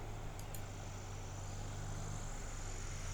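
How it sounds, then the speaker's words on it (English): Modified Cessna 170 fitted with a 180-horsepower engine, a Super 170, droning steadily with a deep propeller hum and hiss, continuous and fairly distant, with no talk. "A modified Cessna 170 with a 180 horsepower is called a Super 170."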